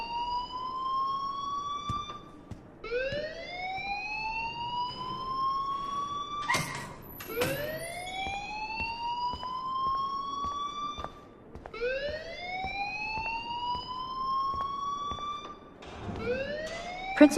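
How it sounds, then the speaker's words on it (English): School alarm ringing in the video game Life is Strange, a loud rising electronic wail repeating in regular sweeping cycles every few seconds, with a brief sharp burst partway through. "please turn off that alarm since that's your job."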